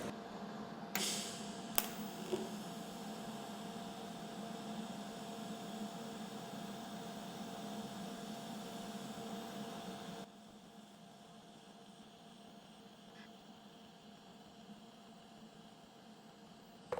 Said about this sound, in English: Let's max this out and run a weld.